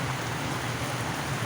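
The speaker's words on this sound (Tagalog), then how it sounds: "Matindi talaga guys yung ang ulan. Hindi talaga humihinto eh." Heavy rain falls without letup in a steady, dense hiss that fills the whole stretch, with a low droning hum running underneath.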